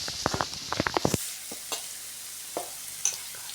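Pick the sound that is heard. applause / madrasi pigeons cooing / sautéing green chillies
sautéing green chillies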